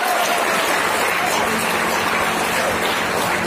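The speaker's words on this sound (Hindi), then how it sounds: "एक बार जोरदार तालियां मिस्टर रजत कश्यप जी के लिए।" A short, steady burst of seminar audience applause, dense and even in loudness from start to finish.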